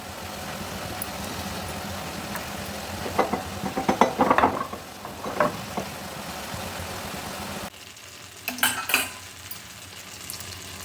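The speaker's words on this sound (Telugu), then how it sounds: "ఇప్పుడు డ్రై ఫ్రూట్స్ నేతిలో వేయించుకుందాం." Cashews and raisins fry in ghee in a pan for a pumpkin halwa, with a low steady sizzle and a few clinking, scraping stirs of a metal spoon, loud and close.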